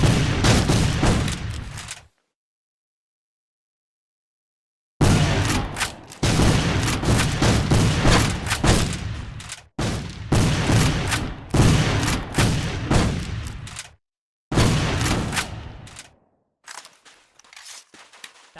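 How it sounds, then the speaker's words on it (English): Grenade blast and heavy gunfire in the PC game History Civil War: Secret Missions, with loud, dense bursts of explosions and rapid shots broken by short silent gaps, ending in scattered fainter reports. "Toss a grenade."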